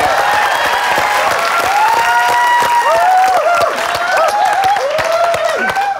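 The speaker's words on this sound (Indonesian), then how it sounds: "Tepuk tangan juga dong untuk Oteng." A studio audience at a Family 100 Indonesia game show claps and cheers continuously, dense loud applause with excited shouts and whoops riding over it throughout.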